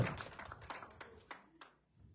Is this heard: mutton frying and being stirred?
no